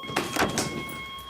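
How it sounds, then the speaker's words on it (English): A locked security door is tried and refuses to open, giving a few dull knocks and rattles over a steady electronic hum, close by and moderately quiet. "It won't open because it's a security door."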